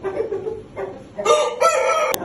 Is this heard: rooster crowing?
yes